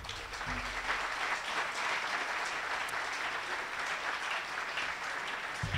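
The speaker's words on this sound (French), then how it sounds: "je pense qu'il mérite nos applaudissements" Sustained applause from a crowd at a graduation ceremony for engineering students, dense and steady clapping filling the room for several seconds without pause.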